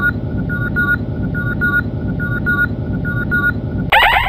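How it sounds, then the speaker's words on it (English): Electronic buzzers from a Star Trek trivia game show played several times in a rhythmic pattern of short repeated beeps, loud and close, ending in a brighter chiming burst. "Why don't you demo the buzzers for them?"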